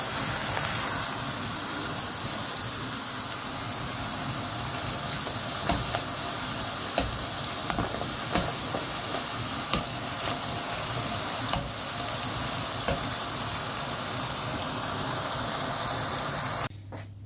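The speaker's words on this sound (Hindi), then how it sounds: "अभी हम इसको फ्राई कर लेंगे। गोल्डन ब्राउन होने तक इनको अच्छे तरीके से" Dough snacks deep frying until golden brown give off a steady, dense sizzle and hiss of bubbling oil, with a few sharper pops and crackles along the way, close and alone until a sudden drop at the very end.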